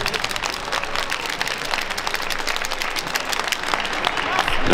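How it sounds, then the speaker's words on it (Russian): Sustained audience applause at a ballroom dance competition, with dense, steady clapping filling the room and swelling slightly louder toward the end. "Давайте громче аплодировать."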